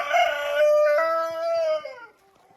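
A rooster crows loudly and close in one long, drawn-out call that fades at the end, with faint clucking from the hens around it.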